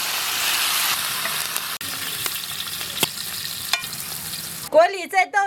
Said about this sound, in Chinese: 把乐子的皮煎变色